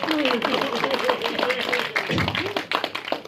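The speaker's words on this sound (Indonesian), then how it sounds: "Wow, tepuk tangan teman-teman" Scattered clapping and cheering from a press conference crowd at the launch of the Indonesian action film 13 Bom di Jakarta, mixed with lively chatter and voices throughout the short burst.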